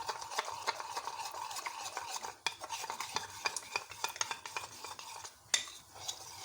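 A spoon stirs cornflour into milk for homemade chocolate ice cream, with continuous close scraping and clinking against the bowl and dense irregular taps throughout. No one speaks.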